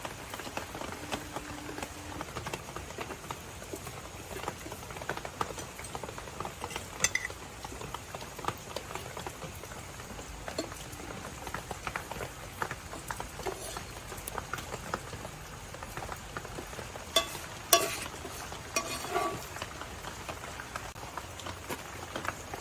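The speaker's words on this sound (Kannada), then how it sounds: "ಚಪಾತಿ ಇದು ಬೇಯ್ತಾ ಬಂತು ನೋಡಿ" Soft, steady crackle and sizzle of a chapati made from wheat flour cooking on a hot pan, a dense patter of tiny pops running continuously at low volume.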